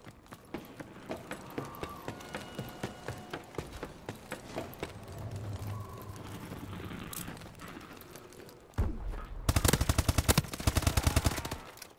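Gunfire from the video game Call of Duty: Advanced Warfare, a steady run of sharp shots through the clip that ends in a loud, rapid automatic burst.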